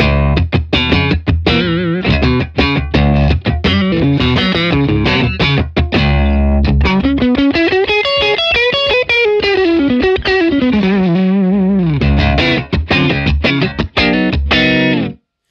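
Electric guitar played through a Hughes & Kettner Black Spirit 200 amp with the sagging control adjusted, giving loud distorted chords and choppy muted strums, then a sustained bending lead line, close and alone with no talk.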